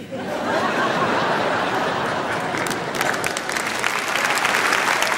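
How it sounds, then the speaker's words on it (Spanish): A concert audience in an auditorium breaks into loud, sustained applause with a few chuckles and laughs mixed in, growing slightly sharper and more clattering toward the end. "Los que están aplaudiendo son de guía"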